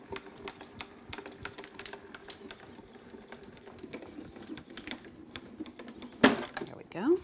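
A hand-cranked Grand Calibur die-cutting machine rolls an embossing plate sandwich through, giving a quiet, steady series of clicks and mechanical ticks, then ending in a couple of louder clunks and a scrape.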